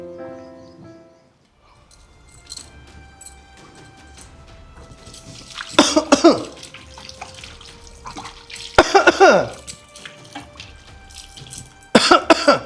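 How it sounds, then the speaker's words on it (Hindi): Three harsh coughing fits at a few seconds' spacing, close and loud, over the faint trickle of running water. "खांसी हो रही तो दवाई ले ले"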